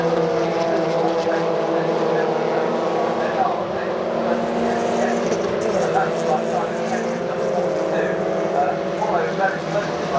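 MG racing cars at Oulton Park circuit in a club championship race pass on track, a loud continuous engine roar with shifting pitch as cars go by, heard from trackside under a commentator's voice over the public address.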